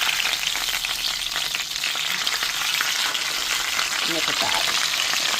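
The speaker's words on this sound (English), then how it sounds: "Okay, so the meat is nice and seared." Prime rib cut into ribeye-style pieces sears for pot roast in a hot pan, a loud, steady sizzle and crackle running throughout, with a brief spoken remark near the end.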